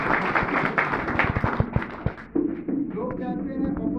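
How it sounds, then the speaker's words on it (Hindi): An audience applauds with dense clapping that fades after about two seconds as a tonal musical sting takes over. "इन दोनों के लिए भी मैं जोरदार तालियां चाहूंगा"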